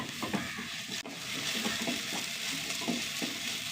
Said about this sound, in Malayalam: ഇഞ്ചി വെളുത്തുള്ളിയൊക്കെ ഒന്ന് നന്നായി വഴണ്ട് വരട്ടെ